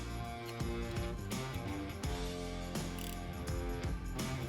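Ratchet clicking rapidly while tightening bolts on a SuperATV CV axle puller tool for a UTV or ATV, dense mechanical pawl clatter in quick repeated bursts, close and steady.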